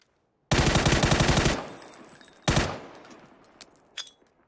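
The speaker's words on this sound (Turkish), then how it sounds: "İki mermi oraya gidiyor" PUBG gunfire: a loud, fast automatic burst of about a dozen rounds, a brief pause, then a single sharp shot, with a fainter distant pop trailing off.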